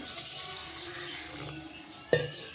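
Water poured into a cooking pan for a North Karnataka greens curry, a soft steady running wash that ends in a brief louder splash near the end.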